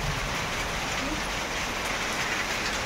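Steady, dense wash of heavy rain, a constant broadband hiss at even loudness with no break across the whole stretch.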